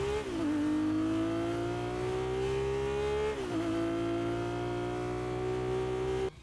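A Ferrari car body in Fortnite, engine revving with climbing pitch through an upshift near midway, loud and sustained up close, then cutting off abruptly at the end, with no talk.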